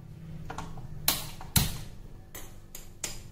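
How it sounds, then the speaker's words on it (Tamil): Kitchen stove being switched on for boiling water with flax seeds: a series of sharp clicks and knocks, including a loud snap around the middle, spaced irregularly over a faint background hum. "இப்போ இதை அடுப்பு ஆன் பண்ணிடலாம்."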